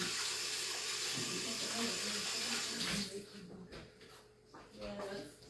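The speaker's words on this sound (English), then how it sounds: "Let me wash my hands." Water running from a kitchen faucet for handwashing, a steady loud hiss that stops partway through, followed by quieter handling clatter and brief voice sounds.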